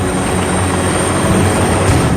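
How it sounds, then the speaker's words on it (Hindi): A helicopter flying over forest while dropping carrots and sweet potatoes for hungry animals, its rotor and engine roar loud and continuous throughout with no voices. "देखिए कैसे लगातार गाजर और शकरकंद हेलीकॉप्टर से जंगलों में फेंकी जा रही है"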